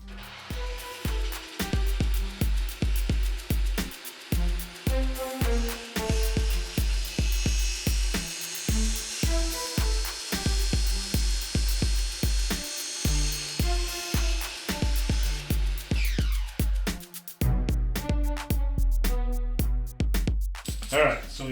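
A power drill boring slowly into a plastic 3D printer spool holder part held in a clamp, in repeated short whirring bursts with pauses between them, close and loud.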